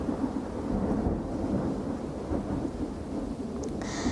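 A thunderstorm rumbles with steady heavy rain and wind, a continuous dense roar with low thunder swelling through it, loud and close, no voices.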